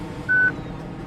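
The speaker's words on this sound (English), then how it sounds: "A little beep you're hearing is the DRS opening." A single short, steady electronic beep signals the DRS opening in the iRacing sim during a Nürburgring GP race, sounding clearly over a continuous engine drone.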